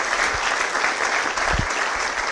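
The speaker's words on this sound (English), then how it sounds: "Give Bill a big round of applause." A conference audience gives a loud, dense round of applause for former past president Bill Tucker, continuous clapping that fills the room.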